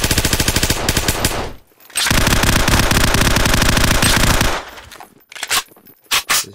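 Mini Uzi submachine gun firing in Garry's Mod: two long, loud, close bursts of rapid automatic fire separated by a brief gap, followed by a few short trailing shots, with no talk over them.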